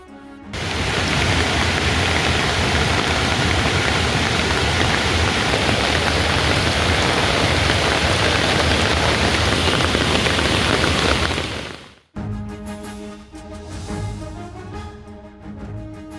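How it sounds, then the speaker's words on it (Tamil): Heavy rain pours down in Rajouri, Jammu and Kashmir, a dense, loud, steady hiss of downpour that runs for about twelve seconds before cutting off abruptly into other sound. "ஜம்மு காஷ்மீர் மாநிலம் ரஜோரியில் கொட்டி தீர்த்த கனமழை"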